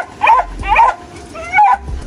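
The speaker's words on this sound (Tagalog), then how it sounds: "Nagagalit na ang aso mo." Angry dog barking nearby, three loud sharp barks in a quick uneven series, each with a rough, growly edge, over a quiet low-frequency background.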